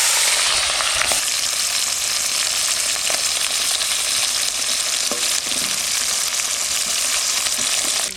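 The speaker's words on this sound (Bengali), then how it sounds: "আমার তেল গরম হয়ে গেছে, আমি এখন মাছগুলো ভেজে নেব" Tangra fish frying in hot oil for a village-style curry, a steady, dense crackling sizzle that runs unbroken and close throughout, with faint stirring clicks and no voices.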